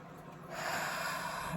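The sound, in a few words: deep breath in through the nose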